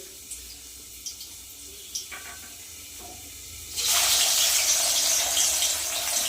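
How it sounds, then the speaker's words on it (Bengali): Pieces of rohu fish drop into hot mustard oil, and after a few soft clicks and taps a loud, bright sizzle bursts in and keeps hissing steadily up close. "এবার মাছটা ভেজে নেব সর্ষার তেলেই রান্নাটা করব আজকে"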